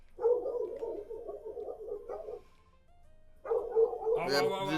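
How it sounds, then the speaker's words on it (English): Angry dogs bark outside a stadium in the video game Pokémon Colosseum, a run of harsh game barks that stops for a moment, then returns as a voice begins talking over it. "There's apparently a crowd of angry dogs outside of this Pokemon stadium"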